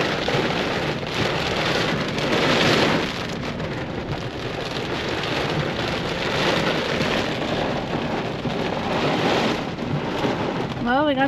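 Heavy rain pours steadily during a thunderstorm at a campground dump station, a dense continuous roar of drops drumming on surfaces with a swelling rumble of thunder early on, loud and close throughout with no talking.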